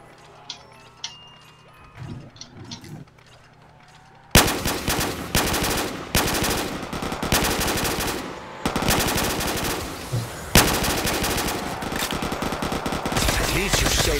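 Black Ops 3 zombies machine gun fire: long, loud rattling automatic bursts with brief gaps, after a quieter opening with faint voices.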